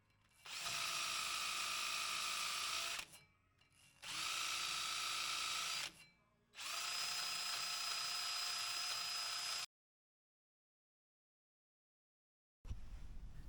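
A power drill with a cleaning attachment whirs in three long bursts against a rusty brake hub with brief pauses between, a close, high-pitched grinding hum, then silence and a short thump at the end.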